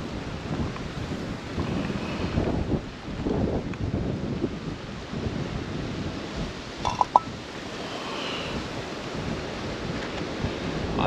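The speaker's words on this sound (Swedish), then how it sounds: "men det blåser ganska kraftigt" Strong wind at Apelviken roars and buffets against the microphone in continuous gusty rumbles, loud and close, with no voices.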